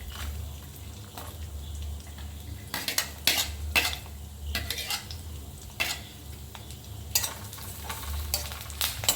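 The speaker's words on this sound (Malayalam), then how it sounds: "നല്ലവണ്ണം വെളിച്ചെണ്ണയ്ക്കകത്ത് എടുക്കാം ആദ്യം തേങ്ങാക്കൊത്തിടാം" Coconut pieces frying in coconut oil in a pan, with steady sizzling and repeated metal spoon scrapes and clinks as they are stirred, close and fairly loud with no talking.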